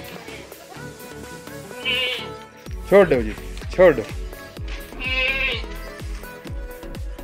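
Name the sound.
goats bleating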